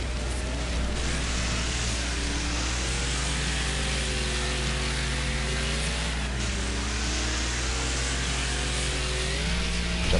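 An Aston Martin touring car in a racing video game revs and accelerates, its engine note rising and dropping through gear changes for about ten seconds over a steady low hum and static.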